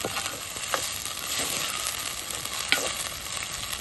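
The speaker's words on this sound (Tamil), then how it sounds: "தக்காளி போட்டாச்சு இப்போ இது நல்லா வதங்கினதுக்கப்புறம்" Chopped tomatoes sauté in oil in a pan over a stove, giving a steady bright sizzle with occasional louder pops and scraping stirs, close and continuous without voices.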